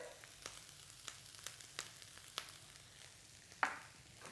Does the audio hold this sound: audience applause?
no